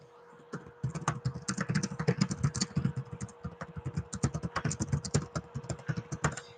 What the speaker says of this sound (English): watching me typing fanatically